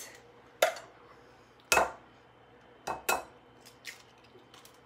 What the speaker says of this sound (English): we're gonna whisk in 2 eggs